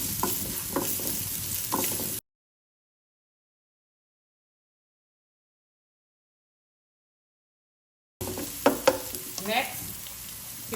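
Ginger and garlic sautéing in oil in a low-carb bopis dish: soft sizzle and stirring scrapes at the start and end, broken by a long stretch of complete silence in the middle.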